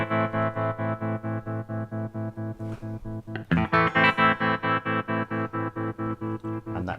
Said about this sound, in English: it's getting reasonably obvious to hear that that tremolo effect is happening